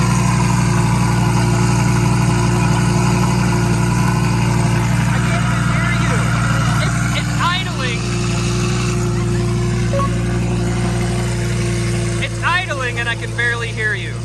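De Tomaso Pantera with a Takahashi muffler idling nearby, a steady low rumble that runs throughout while people talk over it.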